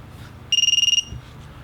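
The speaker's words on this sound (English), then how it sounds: "Listen to the buzzer make some noise." Quadcopter flight controller buzzer beeping on power-up when connected over USB, a quick run of about ten high, sharp pulses lasting half a second, close and fairly loud against a quiet background.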